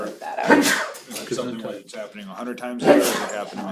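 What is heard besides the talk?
sneeze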